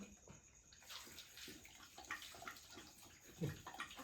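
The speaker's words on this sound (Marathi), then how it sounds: "थोडं पाणी टाकून हलवून घ्या" Water is poured and sloshed close by in a metal pitcher or pot, a steady gurgling wash with small splashes and a sharper swirl near the end, in a farmyard setting.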